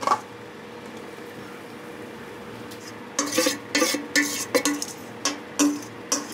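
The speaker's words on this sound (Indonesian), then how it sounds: "Selanjutnya kita tuang di dalam loyang." Bolu bingka Ambon cake batter is poured into a baking tin, with a steady kitchen background giving way to a run of clattering scrapes and knocks of utensil against bowl and tin, close and fairly loud, with no talking.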